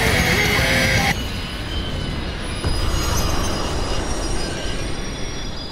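Train wheels squealing in the video game Hatred, a loud, sustained metallic screech with rumbling rail noise that stays steady throughout after a brief louder opening.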